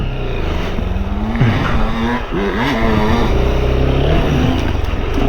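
A 2025 Honda XR 190L motorcycle engine drones under heavy throttle with constant wind roar, the pitch dipping and wavering now and then as it labors along.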